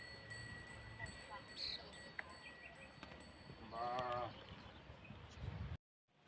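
Female goats bleat repeatedly at a livestock market or farm in Romania, with one loud nearby bleat among fainter animal calls and a faint cowbell-like clink in the background.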